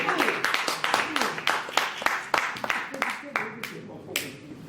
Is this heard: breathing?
no